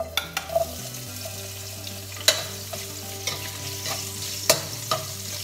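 Ginger sautés in a pan for a salmon-head sinigang sa miso, a soft steady sizzle broken by a few sharp clinks of a utensil against the pan, close by and without speech.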